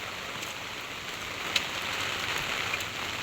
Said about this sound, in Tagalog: Nag-ulan din po siya.